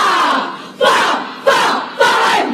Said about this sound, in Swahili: Makofi mazuri.